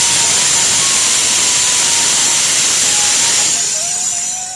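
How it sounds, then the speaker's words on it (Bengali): Pressure cooker whistling on a home kitchen stove, a steady loud hiss of escaping steam with a high shrill tone running throughout, fading slightly toward the end. "তোমরা তো শুনতে পেলে কুকারে একটা সিটি মেরেছে।"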